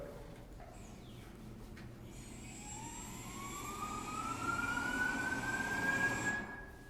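A small drone motor running on a test stand whines and spins up, its pitch rising steadily and growing louder before dropping off at the end, heard close over a steady background hum.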